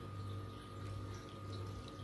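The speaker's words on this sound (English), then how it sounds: "This is some of my tank water now that I'm going to put in here" Reef tank water pours steadily into a container, making a continuous, even splashing rush over a low background hum at moderate loudness.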